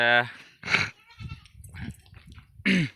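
Two or three loud goat bleats, one at the start and one near the end, with a person talking quietly in between.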